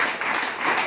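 Brief burst of applause from a seminar audience for Bhaskar sir, a dense patter of clapping lasting about a second with no voices over it.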